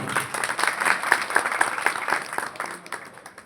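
An audience claps at an award ceremony honouring people in music, a close burst of many hands that holds strong and then tapers off toward the end.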